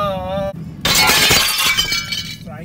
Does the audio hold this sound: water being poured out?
no